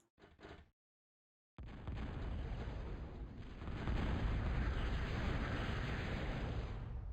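A heavy rumbling barrage of bombing in Supreme Commander rolls on continuously after a short pause, a dense, loud wash of explosions that swells stronger midway and stays thick to the end.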